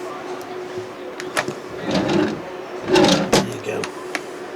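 Drawers in a 2020 Lunar Quasar 524 caravan slide open and shut, giving a few close, soft rumbling slides and knocks, and someone speaks briefly.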